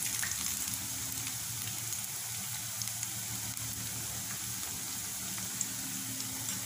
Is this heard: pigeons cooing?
no